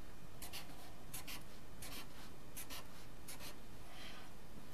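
Marker or chalk writing on a board during an engineering lecture, a run of short scratchy strokes in bursts, moderately close over a steady hiss, with no talking.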